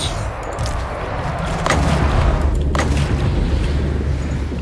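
The Queen Bess cannon fires in Total War: Warhammer, loud booming blasts over a dense rumbling battle din, with two sharp reports standing out close together.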